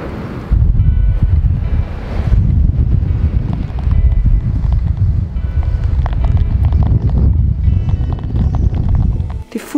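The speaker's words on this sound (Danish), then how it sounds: "Det blæser, og det er frostvejr, og det sneer og havler." Strong wind buffets the microphone outdoors in frosty, snowy, hailing weather, a loud continuous roaring rush with gusts that swell and ease for most of the clip before cutting off near the end.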